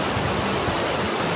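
Water flowing through the Narrows in Zion's desert canyon, a steady broadband rush like a stream or small cascade, continuous and close with no pauses.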